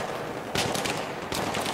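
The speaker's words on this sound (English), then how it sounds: "Hearing gunshots at fountain." Gunfire in the Battlefield 3 Reality Mod shooter game: two bursts of rapid shots over a constant noisy background, moderately distant and fairly faint, with no voices.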